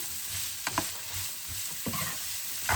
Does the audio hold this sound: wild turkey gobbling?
no